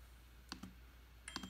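Computer mouse clicks during a Zoom remote-control session, two quick pairs of sharp, close clicks separated by a pause, alone in a quiet room.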